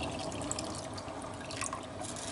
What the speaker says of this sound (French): Et je vais rajouter une boîte d'eau.